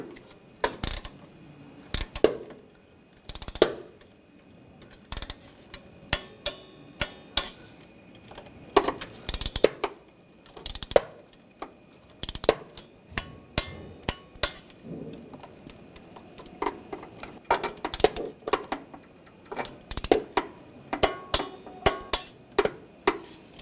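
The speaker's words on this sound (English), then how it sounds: "we're going to torque these bolts to 89 inch-pounds" A torque wrench tightening the intake manifold bolts on a 2004–2012 Chevrolet Colorado 3.7L engine, giving sharp metallic clicks and ratcheting taps in irregular bursts, close, amid quiet handling of tools and parts.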